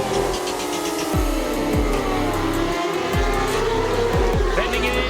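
Super Sport race motorcycles, including an M4X Star Suzuki, roar off the start at the Ridge, a loud dense engine drone with several bikes sweeping past in quick succession under crowd noise and a commentator's voice.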